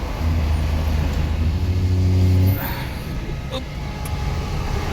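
Heavy truck engine revving under strain with a steady low drone that drops away as the gears are shifted with difficulty, from fourth skipping to sixth, steady and close throughout.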